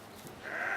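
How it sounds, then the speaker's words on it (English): A sheep bleats on a farm near an orange grove, a single drawn-out nasal call that rises after a quiet start and holds steady to the end, fairly close. "That's a sheep."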